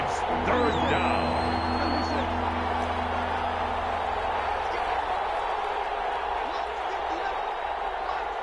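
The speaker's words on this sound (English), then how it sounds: "The crowd getting into it as we come up on a big 3rd down." A stadium crowd in a football video game roars steadily as a big third down approaches, a dense sustained cheer with whistles, and a commentator's voice talks over it.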